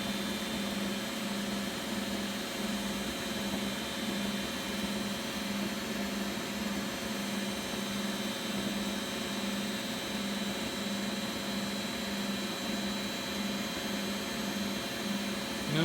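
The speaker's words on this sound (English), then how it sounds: "Oh, there it's winding down now." A Beko WX842430W washing machine hums and whirs steadily as its spin cycle winds down, heard as a quiet, even mechanical drone with faint broadband noise and no talk.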